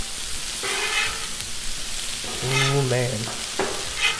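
Shrimp fajitas and vegetables sizzle on a hot Blackstone griddle, a steady close frying hiss broken by scraping and turning, with someone talking briefly over it.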